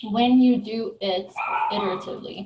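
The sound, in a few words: dogs barking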